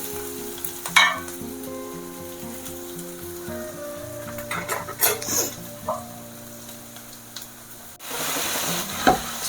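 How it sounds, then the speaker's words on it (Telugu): Chicken pieces frying in a pan with turmeric, sizzling steadily up close while a utensil stirs and scrapes, with a louder burst of sizzle near the end and no talk. "కొంచెం పసుపు, వేసి ఒక్కసారి కలుపుకొని చికెన్ వేసేసుకుందాము."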